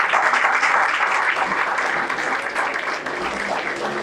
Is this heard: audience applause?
yes